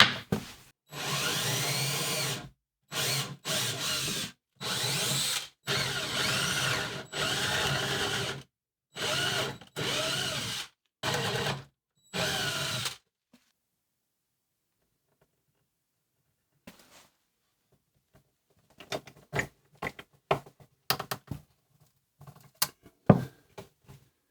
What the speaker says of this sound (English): So I will add these threaded inserts here instead and see how that goes.